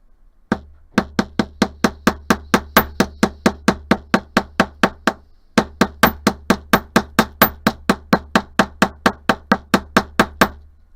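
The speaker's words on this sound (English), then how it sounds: "Put that on my bench block, grab my hammer, hammer the whole thing, and paddle out the end." Rapid, even metallic hammer blows ring out close by as wire is hammered on a bench block, two long runs of strikes separated by a brief pause.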